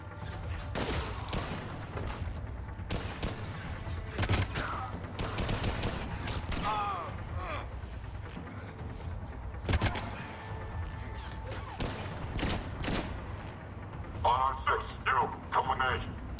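Gunfire in the video game Mass Effect 3: repeated sharp shots and bursts scattered throughout, with a rapid volley near the end, mixed with talking voices.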